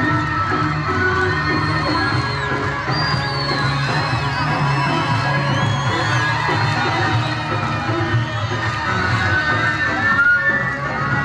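A large outdoor political rally crowd in Esenler, Istanbul cheers, whistles and applauds continuously, a dense, loud roar of many voices with shrill whistles rising above it.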